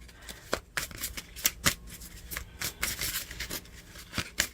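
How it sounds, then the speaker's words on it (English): Tarot cards are shuffled by hand at close range, a run of quick riffling bursts and soft slides in an irregular rhythm, with no voice. "We're going to jump right in and start shuffling to get our reading for this week."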